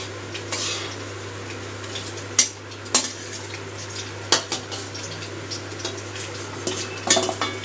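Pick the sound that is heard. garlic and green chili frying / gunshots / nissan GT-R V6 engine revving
garlic and green chili frying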